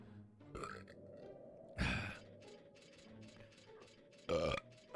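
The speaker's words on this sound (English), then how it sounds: "Oh man, that was a bad burp." A person burps loudly twice, a few seconds apart, each a short rough belch standing out over quiet Final Fantasy IX game sounds.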